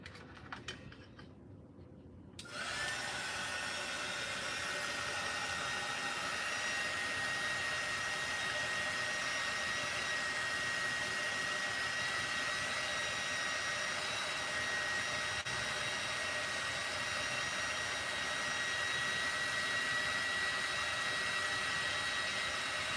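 A hair dryer blows on a glitter tumbler, switching on after a couple of quiet seconds and then roaring in a steady, continuous whine close by for the rest of the stretch, with no speech.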